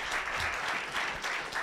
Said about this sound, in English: can you give a warm round of applause to our panel here?